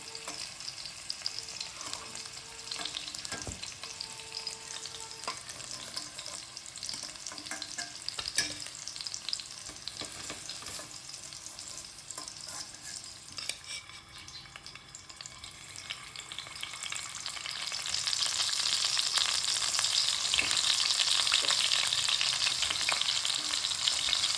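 Potatoes fry in hot oil with a continuous crackling sizzle that grows louder and hissier toward the end, with no voices present.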